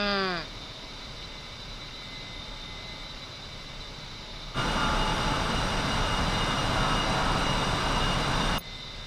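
An A-10C jet in the DCS flight simulator with a steady, loud engine roar that suddenly grows louder and brighter around the middle of the clip, then drops back near the end. A short falling whine opens the clip.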